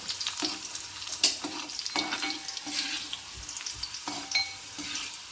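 Raisins sizzling in hot oil for chicken biryani, a steady frying crackle with some clinks of a spoon stirring, close up and with no voices.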